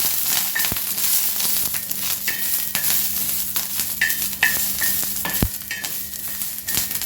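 Chillies frying in oil for kudasa chutney sizzle loudly and continuously, broken by repeated sharp scrapes and clinks as they are stirred in the pan, with no talk.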